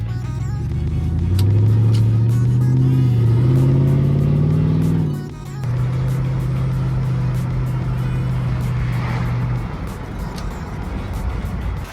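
A 2005 Toyota Sequoia Limited 4x4 V8 SUV with a Flowpro aftermarket exhaust rumbles and revs with a deep, throaty tone, holding steady high revs before dipping briefly and rising again, loud and close.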